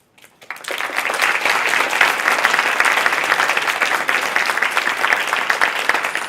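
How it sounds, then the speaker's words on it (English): After a brief quiet start, applause from the audience at a panel discussion on the power of words swells into a dense, sustained wash of many hands clapping, loud and even for several seconds. "So, lots of clapping, more clapping to come."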